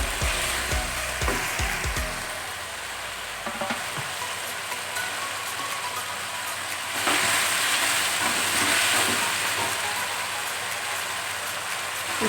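Potatoes frying in a pan with water, a continuous crackling sizzle up close with occasional sharp pops and clanks, swelling louder partway through.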